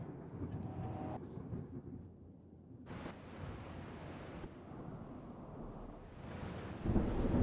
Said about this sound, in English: Even better, it's a goddamn storm.